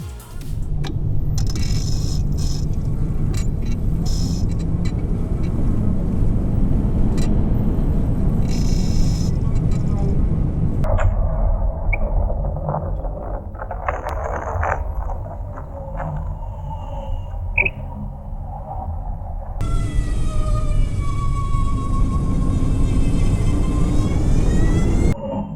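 Sondors Metacycle electric motorcycle while riding: steady, loud wind-blown rush with road roar and a thin rising electric motor whine toward the end, continuous with no talk.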